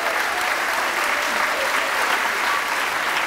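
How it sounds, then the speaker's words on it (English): A theater audience at a charity dance show gives a loud, sustained round of applause for the sponsors, a full, even roar of clapping throughout. "So one more round of applause, please,"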